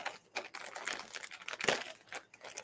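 Crinkling rustle of a plastic bag being rummaged through, with irregular bursts of crackling and handling noise, close and moderately loud, no talking.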